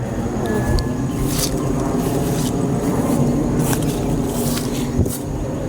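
A high-flying airplane with a loud engine passing over farm fields, heard as a steady low droning rumble that fills the whole stretch, with people talking faintly nearby.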